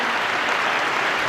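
Brief burst of audience applause at a school campus felicitation ceremony, a loud, dense, even roar of many hands clapping together without pause.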